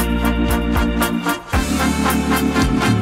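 A music track plays loud and full, with a steady pulsing beat, deep bass and dense layered instruments running continuously with no speech.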